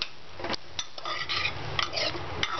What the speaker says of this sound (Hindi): एक बार अच्छे से मिक्स करें